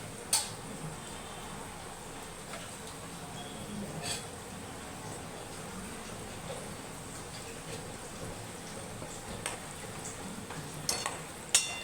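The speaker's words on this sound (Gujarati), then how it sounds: "તેલમાં નાખીને મુઠિયા તળવાના।" Muthiya dumplings fry in hot oil with a faint, steady sizzle and crackle, broken by occasional louder pops and stirring clinks.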